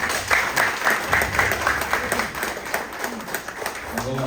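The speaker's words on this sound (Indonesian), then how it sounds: "kita sambut Pak Bayu dengan tepuk tangan" An audience at an agricultural talk applauds to welcome a speaker, a dense run of clapping that lasts throughout, with a voice speaking over it near the end.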